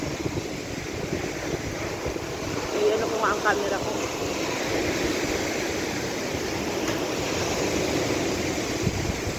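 Typhoon Aghon's large white-capped waves and strong wind make a continuous rushing roar on the Philippine coast, broad and steady throughout, with a voice speaking briefly over it partway through.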